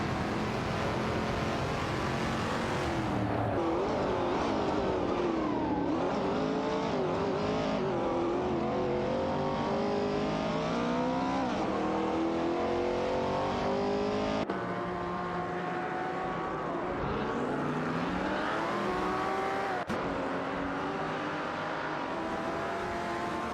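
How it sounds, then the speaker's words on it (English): AI-driven race cars in a racing video game roar around the track, engines revving and shifting pitch continuously as several cars pass close by, loud and steady with no talk. "The positions are shifting rapidly as the AI cars navigate the track."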